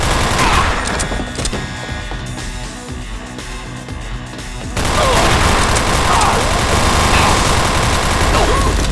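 Sustained automatic gunfire and rapid bursts from the Deus Ex video game, loud and dense throughout, growing heavier in the second half, with a voice speaking briefly over the shooting.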